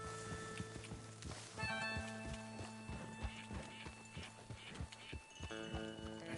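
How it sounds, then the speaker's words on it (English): A team of horses walks with a long run of steady, fairly close hoof clip-clops, the rhythm even throughout and no voices over it. "Come on, horses!"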